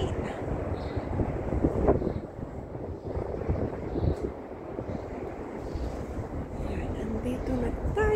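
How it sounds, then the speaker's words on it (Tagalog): Steady outdoor wind buffets the microphone with a constant low rumble on a breezy hillside near Tung Chung on Lantau Island, Hong Kong, while a voice talks faintly underneath. "Mahangin."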